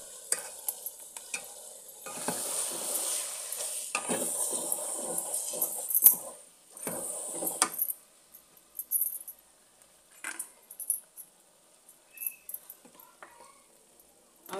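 Singapore rice noodles being stir-fried in a pan, with scraping and tossing strokes over a soft sizzle that fade after a few seconds into sparse, intermittent stirring taps.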